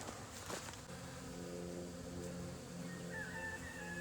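Busy bees working around corn make a continuous low drone with overlapping buzzing tones, steady and fairly close, in an otherwise quiet outdoor setting.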